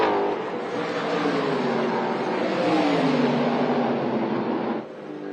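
NASCAR-style race cars, including a Ford Mustang, roar down the main straight at Sydney Motorsport Park, a sustained loud engine drone that swells and shifts pitch as the pack passes, then drops off abruptly.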